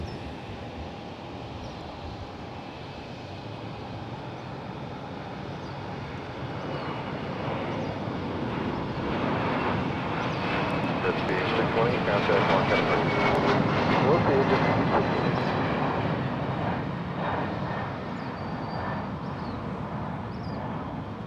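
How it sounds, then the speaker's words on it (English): A Delta Airbus A330 airliner on short final approach into San Jose Airport gives a steady jet roar that slowly swells to a peak and then eases off as it passes, with voices talking over it. "Short final. Delta Airbus A330 in from Salt Lake City"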